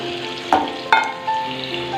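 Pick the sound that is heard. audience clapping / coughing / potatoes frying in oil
potatoes frying in oil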